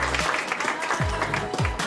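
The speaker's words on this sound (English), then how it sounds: "give them a round of applause for being here." An audience at a community performance claps in a brief burst of applause, fairly faint and diffuse, with no voices over it.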